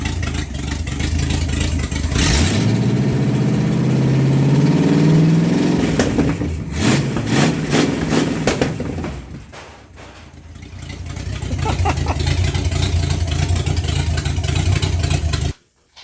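An unmounted 350 engine with its motor mounts unbolted runs on stands, firing up with a loud rising rev, then rumbling, dipping and surging again at a rough idle before cutting off abruptly.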